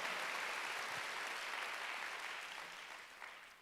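A church congregation at a Wednesday worship service breaks into dense, sustained applause, loud at first and then slowly tapering off over several seconds.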